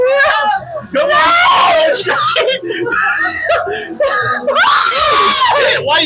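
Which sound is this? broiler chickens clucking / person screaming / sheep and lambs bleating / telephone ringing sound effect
person screaming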